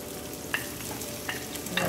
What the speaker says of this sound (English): and we're just going to add our onions.